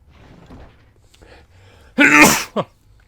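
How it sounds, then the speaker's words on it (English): A single loud sneeze bursts out after soft shuffling sounds, followed by a brief sniff-like catch of breath. "And a sneeze."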